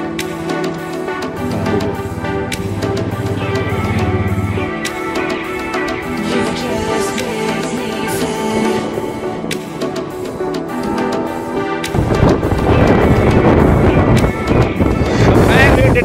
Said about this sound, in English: It was very windy at Namikla.